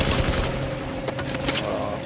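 Dense, continuous gunfire in a Tom Clancy's The Division firefight, a steady loud wash of shots with a few sharper bursts near the end and faint voice underneath.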